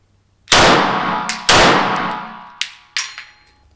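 Roth-Steyr 1907 pistol fired rapidly: two loud, sharp reports close together followed by several quicker, fainter cracks and metallic clanks, close and with no talking.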